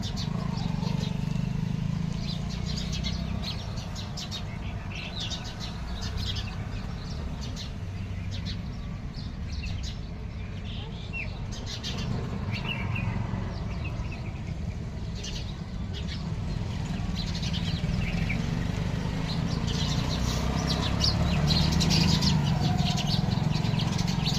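Sparrows and mynas chirp and chatter continuously outdoors, a dense busy flock calling over steady low background noise, with faint voices now and then.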